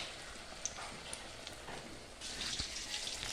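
Pakoras sizzle steadily in hot oil, a soft broad fizzing hiss with scattered pops and crackles that grows a little denser toward the end.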